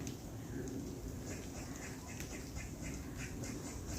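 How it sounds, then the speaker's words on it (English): An unfamiliar bird calls in a dark churchyard under large old yew trees, giving repeated quacking, duck-like calls over a steady background hiss. "Never heard a bird like that before."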